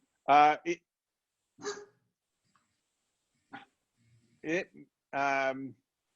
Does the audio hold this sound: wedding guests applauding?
no